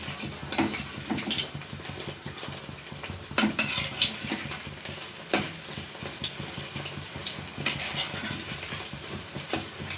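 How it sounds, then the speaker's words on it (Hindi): Bread slices frying lightly in a pan for a sweet dish, flipped repeatedly until golden, with a steady low sizzle, utensil scrapes and sharp clinks of a spatula against the pan throughout, no talking. "ब्रेड को हमें पलटते हुए फ्राई कर लेने हैं हल्की सी, जब तक इसमें गोल्डन कलर नहीं आ जाती है"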